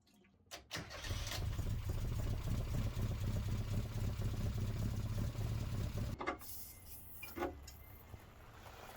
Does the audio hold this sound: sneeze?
no